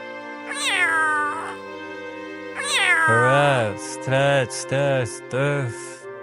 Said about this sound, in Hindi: अरे काली बिल्ली